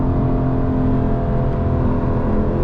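Engine note of a 2021 Aston Martin Vantage Roadster held in gear while driving, a steady loud low drone with a constant rumble, no voices.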